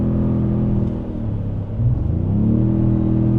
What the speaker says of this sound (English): Now the tones of the exhaust are great.